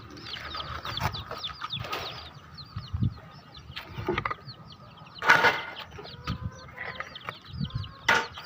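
Chicks peep in a continuous high twittering chorus while hens cluck and squawk nearby, with occasional louder calls and rustling, no one speaking.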